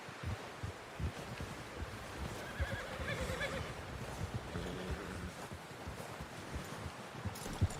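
A horse whinnies and its hooves clop and shuffle in Red Dead Redemption 2, under a windy outdoor ambience with water nearby; the neighing rises mid-clip amid steady irregular hoof and movement sounds.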